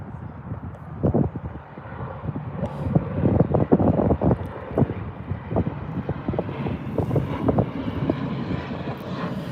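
An ATR turboprop at Birmingham Airport runs with its propellers spinning, giving a steady, rumbling engine drone roughly mixed with gusty wind buffeting the microphone, with no talk.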